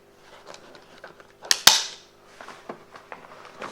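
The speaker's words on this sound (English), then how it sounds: "That cover just snapped back on, as you could see there." A spring-loaded carpet cover on a Mercedes-Benz W124 or W126 non-memory front seat snaps back into place with two sharp, close clacks in quick succession, then faint handling rustles.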